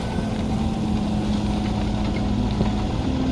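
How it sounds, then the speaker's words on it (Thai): Isuzu 4JJ1X four-cylinder turbo common-rail diesel engine of a Sumitomo SH130F-6 excavator running at a steady drone, constant and close, with a faint tonal hum and no voices. "เครื่องยนต์4สูบเทอร์โบคอมมันเร็วครับ ระบายความร้อนด้วยน้ำเครื่องยนต์อีซูซูครับ 4JJ1X"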